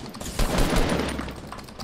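Short burst of Fortnite gunfire, a quick cluster of shots close by with a rumbling tail, no talking.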